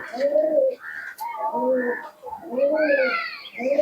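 Akash Pukuri Fatka pigeons, an original Andra-type pair, cooing up close in a run of rounded, rolling calls with short pauses between them.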